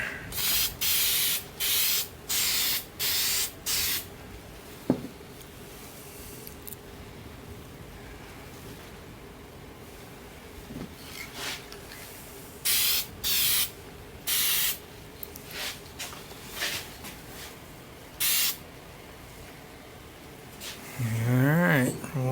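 A Chevelle gets sprayed with paint in a run of short, close hissing bursts with pauses between them, and a longer burst follows near the end.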